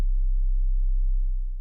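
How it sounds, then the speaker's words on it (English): A plain sine-wave synth tone from a stock plugin in FL Studio holds at a single low pitch, steady and loud for about a second and a half before tapering slightly, with nothing else heard. "This is of course just a sine wave."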